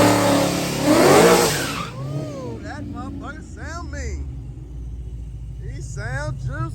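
Ford Mustang engine at a drag race track, with a loud rising rev and rumble that fades. Excited talk carries on over a lower engine drone.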